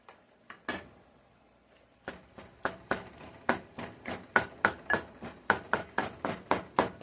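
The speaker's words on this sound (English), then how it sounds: "Try to chop it up as much as you can. You want the hamburger as little as you can." Par-cooked hamburger meat, still in its grease, chopped up in a pan with a utensil: a few scattered knocks at first, then a steady run of sharp, close chopping strikes about twice a second.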